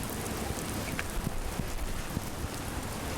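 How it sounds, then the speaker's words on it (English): Steady rain falls outdoors in Vietnam, a continuous dense hiss of drops with a few scattered louder taps on nearby surfaces, no voices heard. "The rain is nice."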